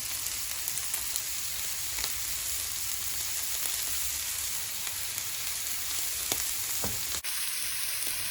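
Salt-and-pepper-seasoned steak searing in a frying pan, giving a steady close sizzle with faint crackles and the occasional tap, with no voices.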